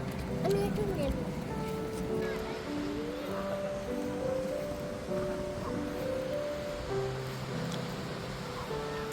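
Ocean waves and surf wash continuously along a crowded beach during a summer holiday, a steady broad hiss and rumble at moderate distance, with voices talking over it throughout.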